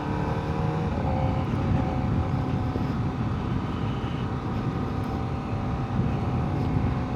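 A new 2025 Kawasaki ZX-4RR motorcycle ridden gently during break-in, its engine a steady, continuous drone with road and wind noise, close and loud throughout, no voices.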